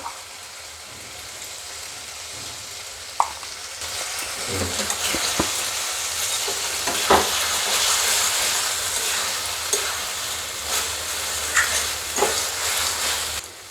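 Cabbage curry with fish head being stirred and fried in a pan: soft scraping stirs and a steady sizzle that grows louder partway through, close up with no talk.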